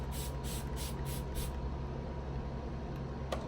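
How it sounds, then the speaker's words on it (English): A cosmetic tester spray hisses out in a burst of five quick, close puffs in steady rhythm, then stops, leaving only quiet room noise. "start off with a tester spray"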